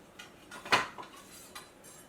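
A big knife rocks through a burnt DiGiorno stromboli on a plate, with a few quiet scrapes and one sharper clink of metal on the plate near the middle.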